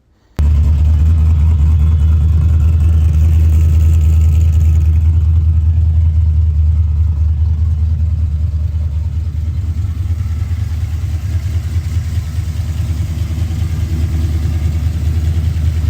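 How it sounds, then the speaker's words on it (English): A Fox-body Ford Mustang with a 351 Windsor V8 running on ACES EFI at its first start, settling into a loud, steady, deep idle rumble with slight fluctuations, close to the microphone and alone. "the first start of the car"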